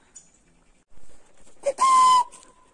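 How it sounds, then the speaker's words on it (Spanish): A short, sharp whistle rings out after a brief rustle, a single steady high tone against a quiet background. "Vamos a seguir para allá echándoles unos chiflidos al perro a ver qué pasa."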